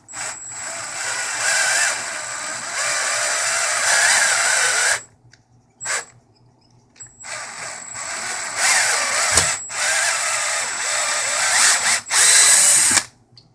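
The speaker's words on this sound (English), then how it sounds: "These step drills sure make a nice hole in this plastic, and they cut very nicely." A step drill bit bores a hole through a plastic audio snake box, a loud whining power-drill run of about five seconds, a short pause with a brief burst, then a second longer run that ends abruptly.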